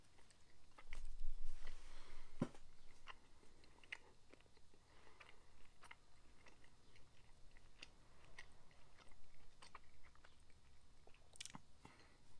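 Someone chews a homemade Philly cheesesteak of meat and cheese up close, with soft irregular bites and mouth sounds and a sharper crunch early on, all fairly quiet and with no talking.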